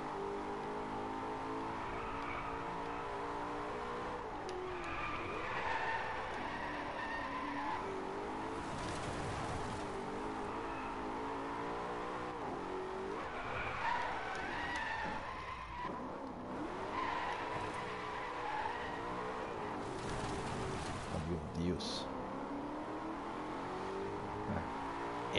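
Cars drift in the racing game Driveclub, engines droning and revving continuously while tires squeal and skid in long sliding bursts, a dense, steady wash of motor noise with no voices.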